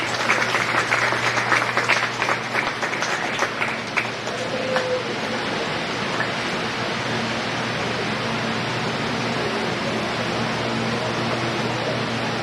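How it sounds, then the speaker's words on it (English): Applause from the crowd at a county fair cattle show, with dense clapping over the first few seconds that then thins into a steady wash of indoor arena noise and a low hum. "Let's give that last young man there a nice round of applause."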